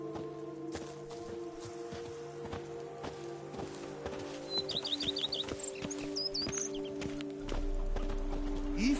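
Horse hooves clip-clop at a steady galloping rhythm in The Witcher 3: Blood and Wine, joined by chirping birds and a faint whinny over a low ambient game soundscape.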